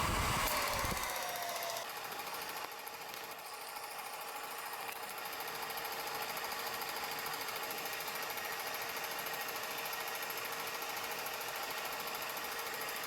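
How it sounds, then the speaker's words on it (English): A Revere film projector's motor running with the lamp on and clutch engaged, giving a steady, close mechanical whir with a rapid rattling flutter that holds evenly throughout, no voices. "you're gonna turn the motor on and the lamp, engage the clutch"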